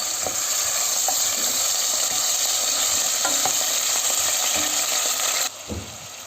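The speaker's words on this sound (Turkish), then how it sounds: "Yağımın içerisine 100 gram kadar kuşbaşı etimi ilave ediyorum. Ve etimi güzelce kavuruyorum." Around 100 grams of diced meat sears in hot oil for chickpea stew, giving a loud, dense, continuous sizzle with occasional stirring scrapes, then a sudden drop in level near the end.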